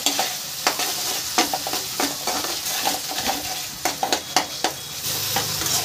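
Masala paste with tomato frying and being stirred in a pan for a mochar chingri (banana blossom and prawn) dish, a steady close sizzle broken by repeated sharp scrapes of the spatula, with no voices.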